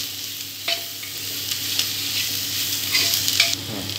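Turmeric and cumin powder masala for egg biryani stirred in a pan over low heat: a steady soft sizzle with a few scraping strokes of the spoon, close and alone.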